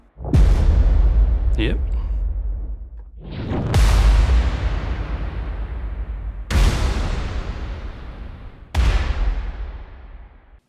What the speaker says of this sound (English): Let's have listen to some far hits.